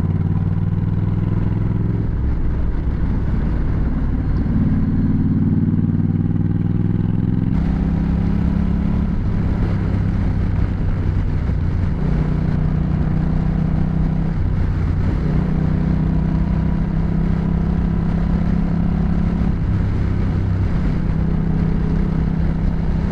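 A motorcycle fitted with Pirelli Night Dragon tires ridden on the interstate, a loud continuous engine drone with gear shifts and rising pitch, mixed with heavy wind roar.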